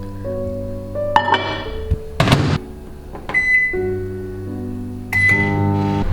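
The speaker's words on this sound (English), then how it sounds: "I am just going to take this and wash it and pop it in the microwave." Humming of a microwave oven running, broken by clunks and clatter of handling, with short beeps near the end.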